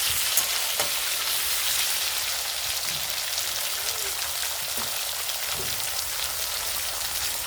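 Green papaya (amita) and potato pieces fry with salt in hot oil, a steady dense sizzle like rain on a surface continuing throughout, with a few faint clinks of stirring and no talk.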